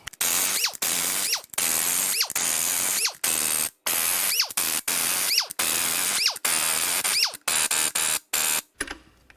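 Pneumatic impact or ratchet tool zipping off bolts from the main cap girdle of a Ford Focus 2.0L engine during teardown, loud repeated short bursts with brief gaps, close up and without talk.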